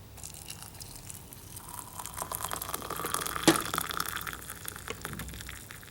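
Hot water poured over about five fresh hibiscus fruits, a soft, faint splashing gush with crinkly trickling that swells toward the middle and then tapers off, with no one talking.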